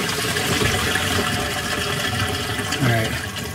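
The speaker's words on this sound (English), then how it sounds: "All right, we'll dump this down the drain." Dirty water fouled with soldering flux poured down a kitchen sink drain, a steady loud rushing gurgle that swells near the end.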